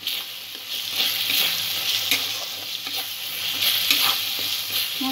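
Ground cumin and chili powder fry in hot oil with a steady close sizzle, while a spatula scrapes and stirs in intermittent strokes and no one speaks.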